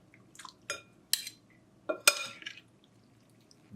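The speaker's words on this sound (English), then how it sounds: "now we need to mix it. So I'm mixing it." A spoon clinks against a bowl while pork tenderloin marinade is stirred, a few light, close taps and wet scrapes with quiet gaps between.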